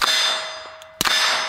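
Two suppressed shots from a Staccato 2011 pistol firing supersonic ammunition, about a second apart. Each sharp crack is followed by a bright metallic ring that lingers between them.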